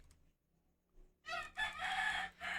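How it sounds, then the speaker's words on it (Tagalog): A rooster crows loudly and close by, one full cock-a-doodle-doo that breaks after a quiet start with a faint low hum. "Lakas ng manok mo, idol."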